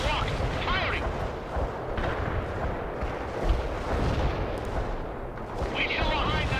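In the World in Conflict video game, missiles fire and explosions land as a continuous barrage of heavy booms and rumbling blasts. Radio-style voices call out over the din.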